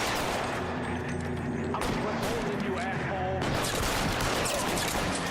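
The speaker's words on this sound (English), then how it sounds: "I'm trying to keep moving, but you guys keep shooting at him" Dense gunfire in the video game L.A. Noire, a loud sustained fusillade of rapid shots that runs the whole clip, with a person talking over it.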